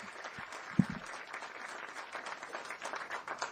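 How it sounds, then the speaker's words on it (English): Audience applause in a hall at a Prime Minister's visit in Lévis, a brief dense patter of many hands clapping at moderate distance, fairly even throughout with one sharper clap near the start. "he's worthy of your applause"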